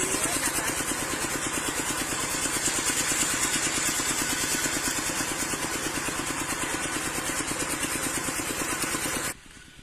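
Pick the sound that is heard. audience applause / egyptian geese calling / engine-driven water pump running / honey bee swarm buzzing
engine-driven water pump running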